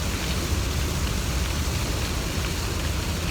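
Steady rain pouring down, a dense continuous hiss with no pauses, fairly loud and close.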